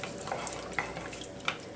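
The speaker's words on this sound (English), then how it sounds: "I'm going to stand here and stir it" Spoon stirring glazed carrots with butter and sugar in a pot on a stovetop, a steady soft scraping and bubbling with a few sharper clicks against the pot.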